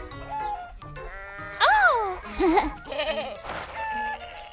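A cartoon goat bleats in a few wavering, rising-and-falling calls, up close, between short stretches of voices talking over soft background music.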